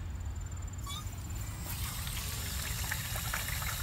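Water pouring steadily at a gas station, a continuous broadband splashing and trickling rush that stays at an even, moderate level throughout, with a few faint high chirps near the start.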